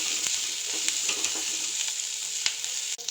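Kachuri filling frying in a pan makes a constant, close hiss and crackle. Several light ladle scrapes and taps are heard as it is stirred, and there is a small clatter at the end.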